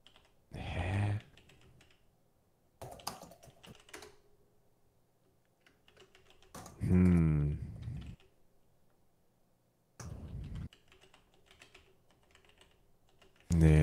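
Bursts of rapid clicking on a computer keyboard while typing letters come in several separate short runs spread across the stretch, with quiet gaps between them and light talk in places.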